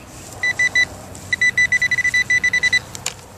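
A handheld metal detector pinpointer probe beeping over a buried target outdoors, giving a short run of three bright electronic beeps, then a faster steady string of repeated beeps, loud and close with no talk.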